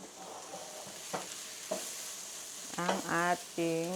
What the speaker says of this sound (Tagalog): Igisa nyo until mag-caramelize ang ating sayang pong maliit na sibuyas